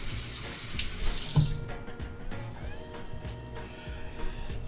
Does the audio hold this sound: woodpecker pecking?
no